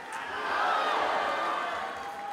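A large arena crowd at a ONE Championship mixed martial arts fight event roars and screams in a sustained swell that rises, holds loudly, and eases slightly toward the end.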